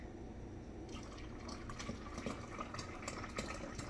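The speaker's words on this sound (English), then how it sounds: "we are going to pour in very carefully so that we don't spill anything." Homemade grape-cherry wine must is poured carefully into a container, giving a steady, faint liquid trickle with soft splashing and drips that runs throughout and stays quiet.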